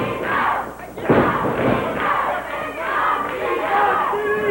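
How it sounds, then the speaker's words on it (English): A wrestling crowd at a Memphis match chants together for Steve, a loud, rising and falling mass of voices with a heavy thud partway through. "Crowd chanting, "Go, Steve, go!""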